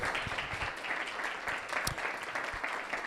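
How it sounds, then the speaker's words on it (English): A room of people claps for live coder Alex McLean at a Sheffield forum, steady and dense applause at moderate volume with occasional louder individual claps standing out. "Proper round of applause for Alex."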